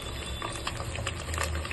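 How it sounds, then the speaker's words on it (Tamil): Sliced onions sautéing with spices in a pot for egg biryani, a soft bubbling sizzle that stays steady and fairly faint with a low hum beneath it. "இந்த வெங்காயத்தை எல்லாத்தையும் சேர்த்துட்டு அதையும் நல்லா வதக்கிக்கலாம்."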